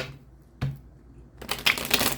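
Tarot cards shuffled in a single close riffle, a brief crisp burst of rapid papery flutter after a short tap and quiet pause.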